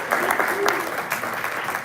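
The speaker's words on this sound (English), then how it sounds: "give him a round of applause" A crowd at WonderCon 2025 claps and cheers in steady, dense applause, with a few whoops rising over the clatter.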